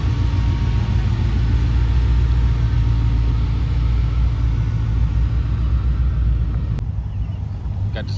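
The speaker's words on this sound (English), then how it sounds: "Got this Datsun" Datsun car driving in at a car meet, a steady low engine rumble close by that continues throughout, with a brief sharp click near the end.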